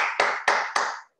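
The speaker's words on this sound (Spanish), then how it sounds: "un aplauso para" Participants in an online meeting clap in four distinct, evenly spaced bursts, close and clear, each a sharp crack that decays quickly, with no talk over them.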